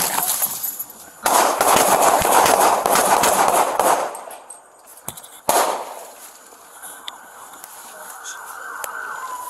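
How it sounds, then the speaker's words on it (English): Police gunshots ring out during an officer shooting in Pacifica, loud sharp bangs within a chaotic burst of noise and shouting, followed by quieter echoing moments and a few more sharp cracks. "Shots fired!"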